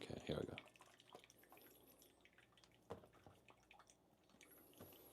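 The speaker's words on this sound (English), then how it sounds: "Gently add up to about 150 grams of water." Water is gently poured over ground coffee for brewing, about 150 grams, as a faint, thin, steady trickle with soft dripping that runs through a quiet room.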